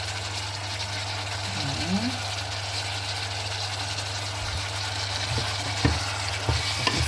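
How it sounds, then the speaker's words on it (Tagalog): Onion and garlic fry in a pan of chicken liver adobo, a steady sizzle over a low constant hum, with scraping stirs and a few sharp utensil knocks toward the end. "Sibuyas at ahos na natira, lagay natin para madagdagan ang lasa"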